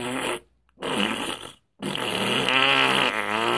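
A person imitates fart noises with their mouth, producing two short bursts and then a longer, wet, sputtering raspberry, loud and close with brief silent gaps between.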